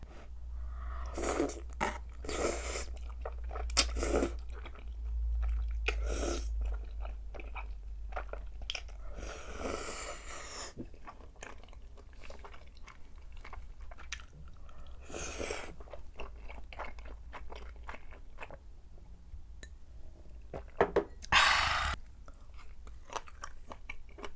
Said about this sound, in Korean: 다음 주제 넘어가기 전에 한입 할게요